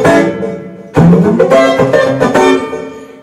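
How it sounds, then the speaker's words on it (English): Guitar played with right-hand eighth-note strumming, bright close chords struck in a steady rhythm, with several sharp attacks after a ringing opening chord. "is a combination of eighth note strumming with your right hand"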